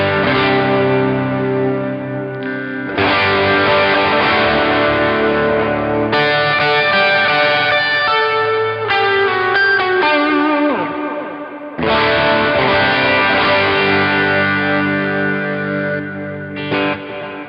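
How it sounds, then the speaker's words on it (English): Electric guitar run through a Timmy overdrive on a Line 6 HX Stomp XL with the gain backed off, playing loud, sustained distorted chords and ringing melodic lines with short pauses between phrases. "He also wants some overdrive, so let's give him some distortion."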